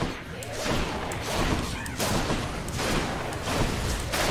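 An explosive shot attack in the video game Hades sounds as a dense barrage of loud bursts, thuds and crashes in rapid, overlapping succession, with a voice faintly present beneath.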